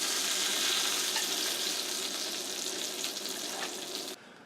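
Steak searing in butter in a hot pan gives a steady, loud broadband sizzle and crackle for about four seconds, then cuts off abruptly near the end.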